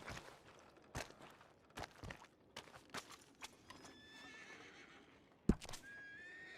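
Horse in the Red Dead Redemption 2 video game gives a clear whinny near the end after a series of soft hoof clops and footsteps, all fairly quiet.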